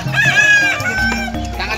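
Young kampung chickens at a busy Indonesian poultry market peep and cluck in a dense, close chorus of high chirps, with a rooster-like call rising early and market voices talking underneath.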